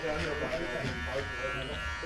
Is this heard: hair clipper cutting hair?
yes